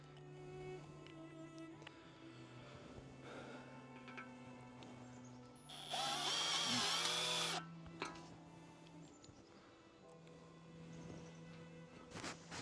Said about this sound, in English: If you want to use an impact, for this is a Milwaukee, there's a mode all the way over here that is for drilling or self-tapping